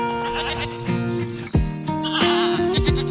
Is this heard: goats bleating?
yes